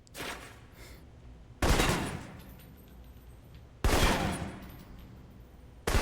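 Assault rifle fire in the Alpha Protocol video game: three sharp, loud bursts spaced about two seconds apart, each decaying into a lingering echo over a low ambient rumble.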